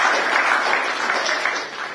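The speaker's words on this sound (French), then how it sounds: "On peut applaudir pour lui." An audience at a book-launch ceremony claps together in dense, even applause that stays close and full for about two seconds, then tapers slightly.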